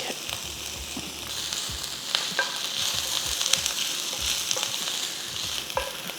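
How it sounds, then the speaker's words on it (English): Ginger and garlic sizzle steadily in hot oil in a pan for prawn and mussel curry, a close, continuous frying hiss with occasional stirring scrapes. "Now I'm adding my ginger now, and then I'll add the garlic."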